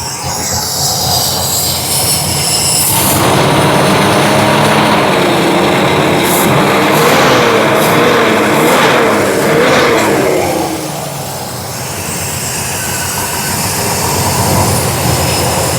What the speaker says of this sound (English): Wonder what happens when we snap the throttle.